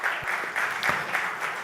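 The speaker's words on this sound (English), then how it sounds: "let's clap loudly for all the speakers" Audience applause at a regional summit on stage, a steady hall-filling patter of many hands clapping throughout, fairly close and continuous with no pause.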